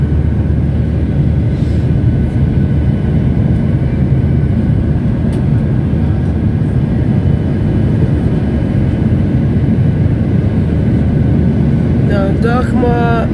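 A constant loud roar of jet engines fills a plane's cabin from a seat near the engine, steady and droning throughout with no breaks.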